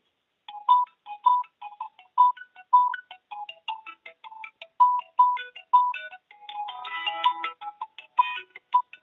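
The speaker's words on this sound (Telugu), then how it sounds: "వాట్సాప్ కాల్ చేస్తున్నారండి" A WhatsApp call ringtone plays a steady, repeating electronic melody of short bright tones for several seconds. It sounds clear and fairly close, with no talk over it.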